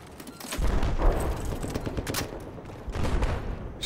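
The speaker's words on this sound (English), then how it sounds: "a bunch of gunshots are going off" Rapid bursts of gunfire crackle and boom in clusters, dense and loud, a firefight in Battlefield 4, with no talking.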